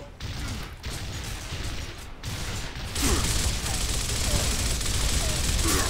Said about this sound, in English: Do you see how many times I'm shooting him in the head?